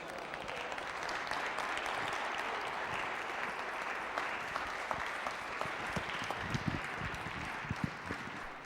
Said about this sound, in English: Let us give Dr. Brother Ali Muhammad another round of applause, please